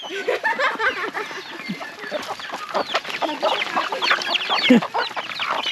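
Several chickens cluck and squawk close by in a busy, overlapping chorus among turkeys, with occasional louder calls rising above the flock.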